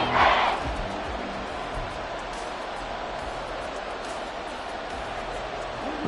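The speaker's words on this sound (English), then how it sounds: "This crowd doing all they can." Stadium crowd in the Madden 24 football video game, a steady distant roar with a brief louder swell at the very start.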